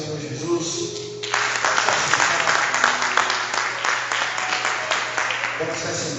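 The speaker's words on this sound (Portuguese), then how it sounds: "Aplauda o Senhor Jesus." A church congregation breaks into applause during a service: after a brief stretch of a voice over a low hum, a sudden burst of many hands clapping holds steady and fairly loud, then ends abruptly.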